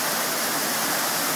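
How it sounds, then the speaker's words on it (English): A waterfall roars in a steady, broad rush of falling water, continuous and fairly close, with no voices. "Beautiful waterfall."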